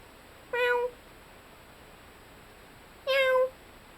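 A grey parrot imitates a cat's meow, giving two clear, close meows about two and a half seconds apart with quiet between them.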